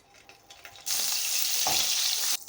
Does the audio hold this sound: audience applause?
no